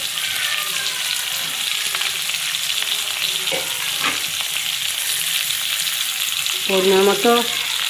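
Raw green bananas fry in a pan of hot oil with a loud, steady sizzle, and a few stirring clatters come near the end.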